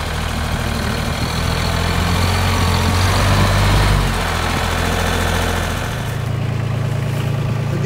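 Tractor engine idling and running in a cassava field, loud and steady, with a brief swell in the middle before it settles back to an even rumble.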